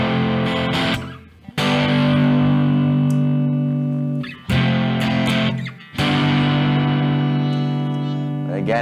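Electric guitar played through a Joyo Bantamp Bluejay amp pedal, sustained distorted chords ringing out in long held phrases with brief gaps, loud and close with no talking over it.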